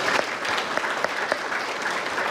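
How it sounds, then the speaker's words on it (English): Audience at an annual awards dinner claps steadily, a dense even applause of many hands filling the room throughout. "Let us give a round of applause for this building that is coming."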